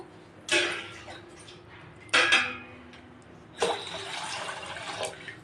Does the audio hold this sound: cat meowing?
no